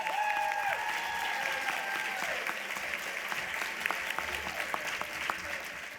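Audience at a Palm Beach business conference and expo applauds, steady crowd clapping from start to finish, with a tonal electronic sound sweeping over it early on and a voice faintly mixed in.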